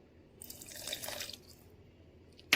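Water pours briefly into a blender of sambal in a light, splashy trickle lasting about a second, then fades, with a sharp click at the end.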